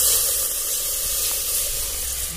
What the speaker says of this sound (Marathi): आणि पाणी टाकायचं